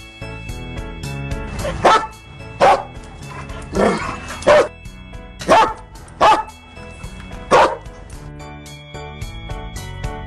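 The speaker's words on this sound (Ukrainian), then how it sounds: "Собака." A dog barks repeatedly in short, evenly spaced yaps, fairly loud and near, with light music playing underneath.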